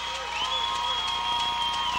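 Crowd applause and cheering from a high school basketball game at Paintsville versus Allen Central in 1996, a steady roar of clapping with a shrill whistle-like tone over it, a commentator talking throughout.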